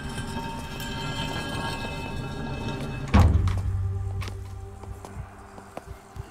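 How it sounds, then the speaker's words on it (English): A stone statue opens in the horror video game Maid of Sker: a heavy thunk lands midway, followed by a low, sustained mechanical rumble that slowly fades beneath the game's steady ambient drone. "And that opens up the statue."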